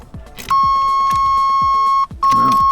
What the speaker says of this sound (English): Excuse the buzzer.